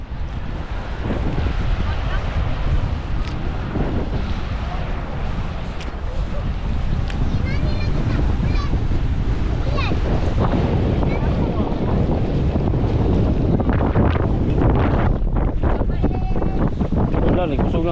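Strong wind roars steadily into the microphone with buffeting gusts, while people talk faintly beneath it.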